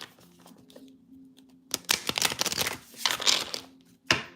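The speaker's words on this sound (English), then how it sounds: "Shuffling up your cards right now." A deck of cards is shuffled close up during a live card reading, giving bursts of rapid riffling and flicking, with quieter handling between them.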